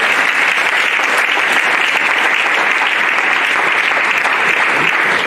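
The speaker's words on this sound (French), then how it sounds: "On peut acclamer pour Job." A church congregation applauds steadily during a French-language sermon, the clapping loud, dense and sustained throughout with no voices rising above it.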